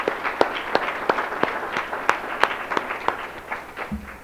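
Audience at an opioid abatement conference applauding honorees: sparse, individual claps ring out in an uneven rhythm, a thin scattering of hands rather than a full crowd, with no voices over them.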